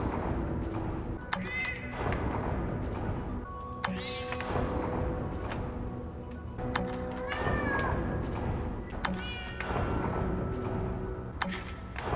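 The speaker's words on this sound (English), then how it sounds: "Every now and then, there's a chance that a cat will appear." A cat in the video game Lightmatter meows repeatedly over an ambient in-game soundscape, several short calls spread across the stretch, with thumps and a voice talking in the background.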